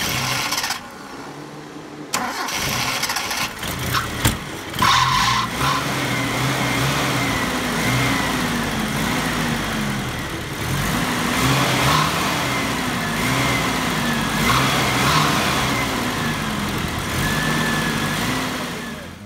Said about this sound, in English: Just started her up and gave it a few big revs.